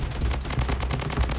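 Rapid, evenly spaced shots in the BloodStrike mobile shooter, a steady rattling volley of gunfire up close with no talking.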